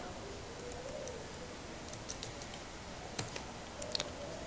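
Light, sparse keystrokes on a computer keyboard while entering a terminal command during an Ubuntu install in VirtualBox, soft scattered clicks over a quiet room hum, with faint bird cooing in the background.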